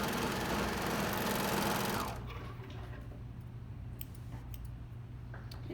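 Serger overlocker stitching a sweatshirt neckband seam closed, a fast close whirring run for about two seconds that stops abruptly, followed by a faint lingering hum and small handling clicks.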